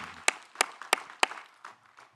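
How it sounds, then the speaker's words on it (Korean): A church congregation at a Wednesday service in Daegu gives a few sharp, spaced claps, about four distinct strikes in a slow rhythm, then fading softer patter, fairly quiet overall. "주께 영광의 박수 올려드립니다."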